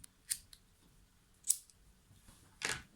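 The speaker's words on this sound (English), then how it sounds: "Clip just above that with your scissors or your clippers" Scissors snip fishing line just above an FG knot, three sharp, close clicks spaced about a second apart in a quiet setting.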